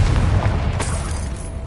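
A Confringo spell explosion in Hogwarts Legacy, a loud deep boom that rumbles and decays over about a second and a half with a crackling burst on top.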